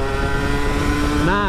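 A 2000 Yamaha F1ZR motorcycle fitted with a Chan Racing muffler holds a steady, loud exhaust note, then its revs climb sharply near the end.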